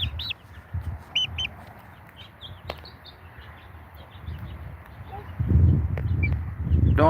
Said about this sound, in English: I have 8 big chickens and 5 little ones that are right there.